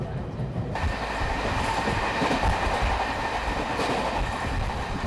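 A passenger train running from Delhi to Agra rumbles steadily with a continuous clatter of wheels on track heard from inside the carriage, a loud, unbroken roar lasting the whole stretch.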